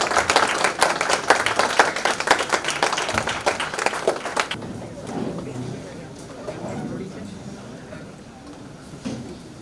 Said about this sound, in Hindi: आप सबकी तालियां बहुत प्रतीक्षित हैं।